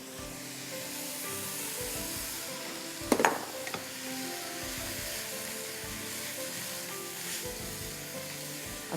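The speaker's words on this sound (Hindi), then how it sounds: "अच्छी तरह इसको स्टर फ्राई कर दीजिए" Cabbage sizzles and hisses steadily as it is stir-fried in a hot pan with a little water, with a sharp scrape and clatter of the spatula midway through.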